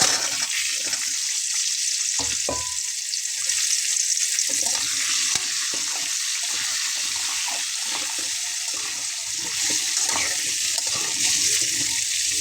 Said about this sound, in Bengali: সুন্দর করে আলুটা ভেজে নিতে হবে